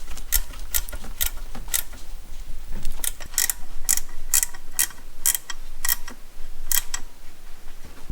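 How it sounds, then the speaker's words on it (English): Bolts on a water pump pulley are snugged up with a 10mm spanner during timing belt work on a Hyundai Getz, giving a string of sharp, close metallic clicks and ticks at an uneven pace. "So I'm just going to snug those bolts up with a 10mm spanner"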